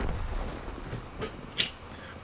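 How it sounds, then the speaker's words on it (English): Artillery firing high-explosive shells from a corner alley in a World of Tanks-style battle on the Himmelsdorf map, heard as faint distant booms, one sharper report standing out near the end. "Basically the artillery is hiding here in a little corner alley. Shooting HE."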